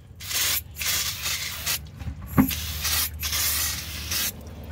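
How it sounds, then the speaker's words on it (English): An aerosol cleaner hisses in several bursts as dirty, greasy parking brake shoes and brake pads on a 1999–2004 Jeep Grand Cherokee WJ rear brake are sprayed down, with short pauses between bursts and a brief metallic tap in the middle. "We'll spray down these brake pads, these parking brake shoes that were just touched and got all dirty and greasy."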